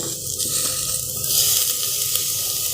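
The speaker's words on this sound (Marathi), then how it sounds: "ते आपण भाज्या घालूयात या सगळ्या बटाटा घालू" Steady loud sizzling as vegetables and potato go into a hot frying pan for a Marathi home dinner dish, continuous close frying hiss with no talk.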